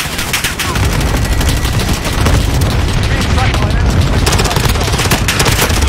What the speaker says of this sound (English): Airstrike on him, airstrike on him.